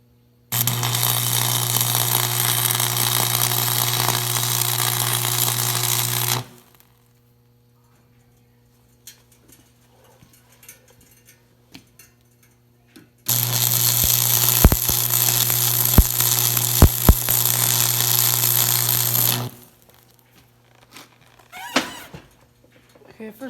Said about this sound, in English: Okay, first weld's done.